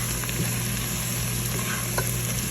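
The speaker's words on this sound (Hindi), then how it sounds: "इसी ऑयल में हम लोग अपने चिकन को भूनना शुरू" Chicken frying in hot oil for a shahi white korma, a steady dense sizzle and crackle filling the clip, with a couple of faint stirring touches and no voices.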